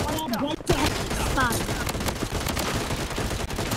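Rapid bursts of recoil-free gunfire in the BloodStrike shooter game crackle in dense fusillades, close and loud, continuing steadily while players talk over them.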